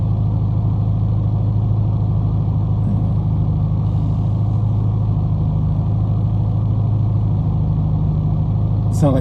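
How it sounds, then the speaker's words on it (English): A big truck rolls along a flooded New York street, its heavy engine giving a loud, steady low rumble that fills the whole stretch, with a faint hiss near the end. "God damn, that's a big ass truck."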